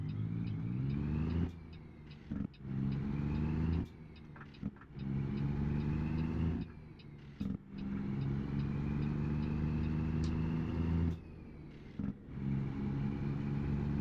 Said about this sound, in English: My engine sounds are not what they're supposed to be.